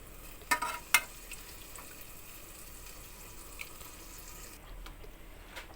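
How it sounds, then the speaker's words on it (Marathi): Raw chicken added to fried black masala and stirred in a pot, a couple of sharp clattering thuds near the start followed by a soft, steady sizzle and faint stirring. "आता यामध्ये पूर्ण अळणी चिकन घालून घ्यायचं."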